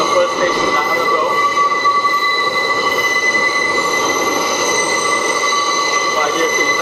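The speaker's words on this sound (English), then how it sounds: "On the R6286 train, going to the Brooklyn Bridge City Hall" New York City subway train on the R line heading toward Brooklyn Bridge City Hall, heard from inside the car as a steady roar with a sustained high wheel squeal riding over it.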